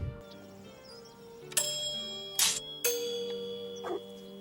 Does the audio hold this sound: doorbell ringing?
yes